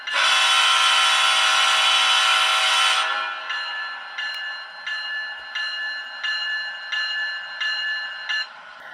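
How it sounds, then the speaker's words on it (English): An HO scale Scaletrains CSX model locomotive rings its bell right after a long horn blast, a steady metallic ding repeating about every 0.7 seconds, close and clear. "the bell turns on"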